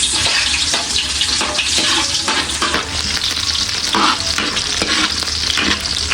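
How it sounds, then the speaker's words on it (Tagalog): Garlic and onion sauté in a pan for spaghetti sauce, a loud close continuous sizzle with stirring scrapes and no talking. "Tayo pa ay magigisa na po ng bawang at sibuyas."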